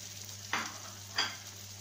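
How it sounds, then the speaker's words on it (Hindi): A spoon stirs a chicken stuffing mixture for bread patties in a bowl, giving two brief, soft scraping strokes close by against a quiet background hum. "अब आप इनको मिक्स कर लें अच्छी तरह, सारी चीजें हमने ऐड कर दी हैं।"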